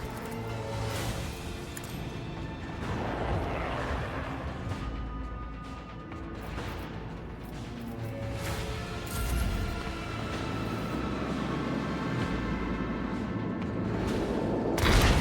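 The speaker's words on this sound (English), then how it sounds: "Let the macro cannons sing their deadly litany." Macro cannons fire from a starship in the video game Warhammer 40k: Rogue Trader, a continuous barrage of booming blasts and rumbling explosions over a dense battle soundscape.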